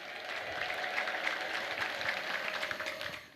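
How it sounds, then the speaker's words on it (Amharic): A church congregation at a healing-testimony service breaks into sustained applause mixed with high ululation, a continuous moderately distant wash of clapping that fades slightly at the end. "እልል ብላችሁ አመስግኑልኝ"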